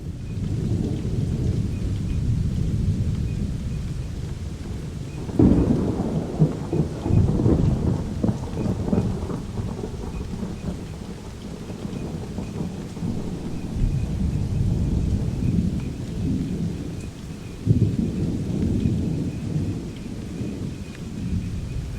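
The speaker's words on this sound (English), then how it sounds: "Thunder got louder and louder," Steady rain pours down while thunder rumbles low and heavy, with two louder rolling cracks breaking through the constant wash of falling water.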